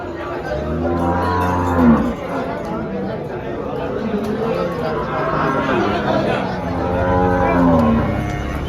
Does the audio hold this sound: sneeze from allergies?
no